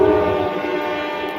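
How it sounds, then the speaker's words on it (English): A passing train sends out a loud, sustained tonal roar with a heavy low rumble, steady and close throughout with no voices over it. "Give me a second for the train."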